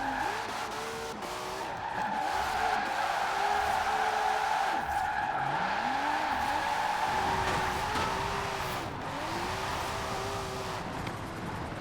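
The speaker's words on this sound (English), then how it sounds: "The sound effects on these cars sound way better" Car engines revving and tires skidding in the racing video game Forza Horizon 4, with rising and falling engine pitch sweeps and steady loud tire squeal throughout, no talking.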